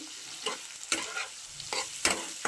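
Prawns frying in a pan and being stirred, several sharp scraping strokes of the spatula spaced out over a soft, fairly quiet sizzle, close by with no voices.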